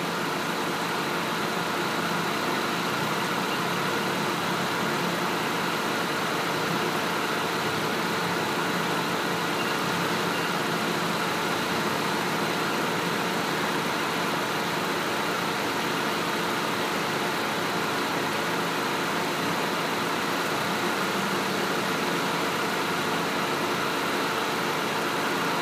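A 2001 Nissan Sentra with a 2.0 engine idles steadily for the full stretch, an even, constant mechanical hum and light rattle with no revving and no voices.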